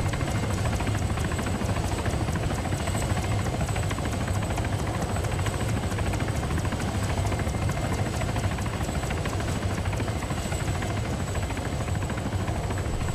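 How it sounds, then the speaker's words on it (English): A video game helicopter's rotor thrums continuously while hovering overhead, a steady loud drone with a faint high whine, unchanging throughout. "I don't know if that helicopter saw me, but he's hovering right over me right now."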